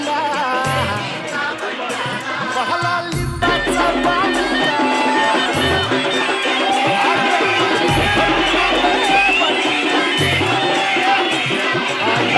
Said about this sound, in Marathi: खूप गर्दी होते खूप